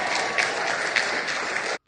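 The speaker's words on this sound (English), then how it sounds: "They're applauding her for saying Georgia's the worst place to live" An audience at a Stacey Abrams speech applauds in a steady, dense burst of clapping that holds even for under two seconds and then stops abruptly.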